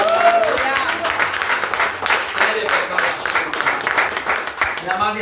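Sustained applause from a church congregation, steady and fairly loud throughout, with a preacher speaking in Portuguese over it at the start and end.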